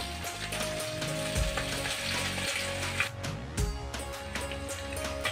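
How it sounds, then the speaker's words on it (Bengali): Cotton stalk fish frying in oil in a pan, a bright crackling sizzle running the whole time, punctuated by a few thumps and scrapes, close by with no speech. "মাছ ভাজা এক পিঠ হয়ে গেছে, আমি আরেক পিঠ উল্টে দেব।"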